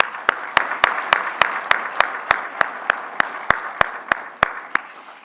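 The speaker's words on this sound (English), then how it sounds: "Let's show our appreciation with a big round of applause for Syngenta." Audience at the Grain Awards 2024 ceremony breaks into sparse, evenly spaced claps about twice a second, sharp and close, over a soft bed of wider applause, with no talking.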